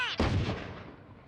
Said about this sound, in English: You know what? Grenade.